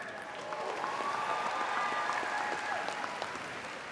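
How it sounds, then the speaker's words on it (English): A large convention audience at the 2024 Enagic Global Convention applauds in a broad, steady roar of clapping, with faint cheers and a thin whistle-like tone drifting above it. "So huge round of applause for you guys."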